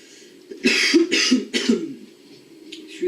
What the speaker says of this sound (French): Excusez le fait que je tousse